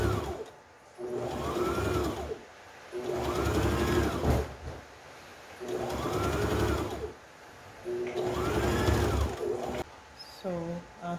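Sewing machine stitching a fabric face mask with a straight stitch, four steady runs of whirring that rise and fall in pitch, separated by short pauses, close and clear.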